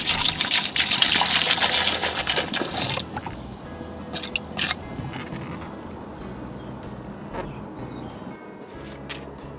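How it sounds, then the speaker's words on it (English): Liquid poured from a jug into a pool skimmer gushes and splashes steadily for a few seconds, then tapers off into quieter trickles and a few handling clicks. "Now I pour in about another third of the jug into the skimmer."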